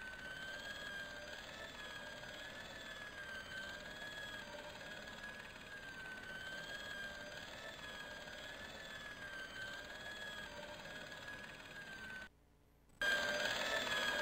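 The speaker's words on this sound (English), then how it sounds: "I saw the source of the hellish noise which echoed through the corridors. It was an industrial polishing machine" Industrial polishing machine noise from the Broken Sword video game: a steady, faint, whining mechanical hum with a wavering pitch that drones continuously, then cuts out briefly and returns near the end.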